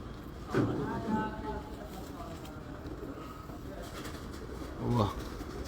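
Pigeons coo nearby in a loft in Multan, two throaty bursts standing out from a low murmuring background, with distant voices faint underneath.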